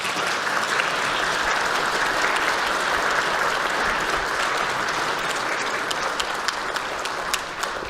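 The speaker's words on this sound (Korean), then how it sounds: "여러분께 큰 박수 한번 부탁드립니다." Sustained applause from an audience in a Korean National Assembly plenary chamber, steady and dense for about eight seconds with no pauses.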